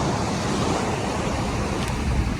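Steady roar of high-tide sea waves washing onto the dolomite sand beach along Manila Bay, loud and continuous with broadband surf and some wind buffeting the microphone, no voices.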